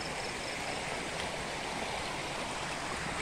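Floodwater rushes along a swollen river in Malaysia after a night of heavy rain, a steady, dense roar of flowing water filling the scene without pause, with no voices.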